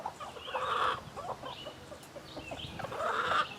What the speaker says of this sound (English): there are 4 bantam hens, and they all want to be mother